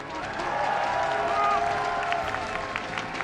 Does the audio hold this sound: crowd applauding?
yes